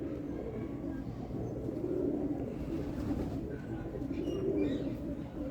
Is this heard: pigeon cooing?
yes